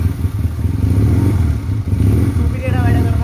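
A motorcycle engine runs on homemade petrol with a loud, close, steady throbbing idle that continues throughout. People talk over it.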